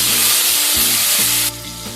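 Large slices of tomato dropped into hot oil for a Bihari-style fish curry hiss in a loud, bright sizzle that cuts down abruptly partway through and continues more quietly.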